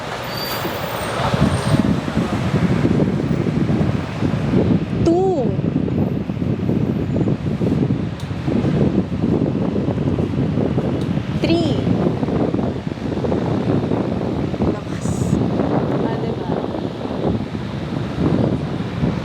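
A desk fan running at full power blows straight into the microphone, making a loud, steady roaring wind noise throughout, with a few faint squeaks and clicks in the background.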